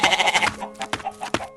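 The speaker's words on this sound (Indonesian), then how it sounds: "Lihatlah kambing putih yang sedang berada di dalam gudang kayu." Animated white goats inside a wooden barn bleat in a quick series of loud, close, wavering cries, with a few short separate bleats following.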